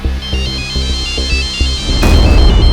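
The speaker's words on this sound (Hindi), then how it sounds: "फिर एक रात अचानक इसके बाप का फोन आया।" Telephone ringing in a quiet home at night with a regular pulsing ring pattern, repeated several times, then cut off by a louder burst of broadband noise near the end.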